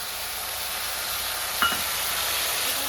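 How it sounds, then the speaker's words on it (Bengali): Fried lentils hit a hot pan and a steady, close sizzle of frying fills the whole stretch, with a faint brief clink of a utensil partway through. "ভেজে রাখা ডালটা দিয়ে দেবো"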